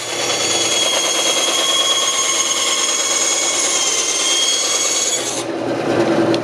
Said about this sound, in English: I don't follow the line because as I sand it, it kind of takes its own shape.